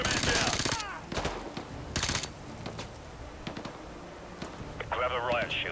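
Gunfire in Call of Duty: Modern Warfare 2, Desert Storm setting, sharp bursts of shots and explosive cracks with a voice speaking over the battle and dense background noise.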